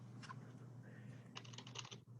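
Brief, quiet taps on a computer keyboard during a town commission meeting, a few light keystrokes over a low steady room hum.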